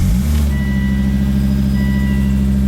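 Ex-police Volvo T5 engine restarted after fault codes were cleared, settling into a loud, steady close-up idle with a deep rumble and faint high whine throughout, no talk.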